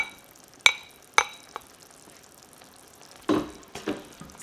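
Cooked ribeye stirred into melted cream cheese in a hot pan for a keto Philly cheesesteak casserole: two sharp utensil clinks early, then soft scraping stirs later over quiet background sizzle.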